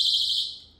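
A personal emergency alarm from a Japanese everyday-carry survival kit shrieks in one loud, piercing, steady high tone close by, fading slightly toward the end of its brief burst, with no voices.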